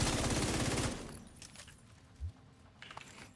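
Mark 46 machine gun firing in a video game: a loud, rapid burst of shots for about the first second, then quieter clicks, thuds and a brief low thump.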